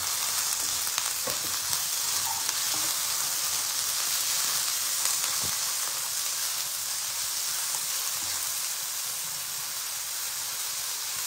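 Mushroom, capsicum, paneer and peanuts fry in a hot pan, giving a steady, close broadband sizzle that runs unbroken throughout with a few faint clicks of stirring and no talk.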